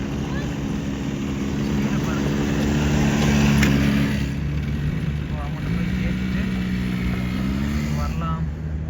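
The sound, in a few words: kids riding small motorbikes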